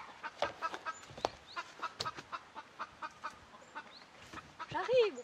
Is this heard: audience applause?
no